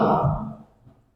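A single yawn opens loud and breathy, then slowly fades into a soft exhale, heard alone and close.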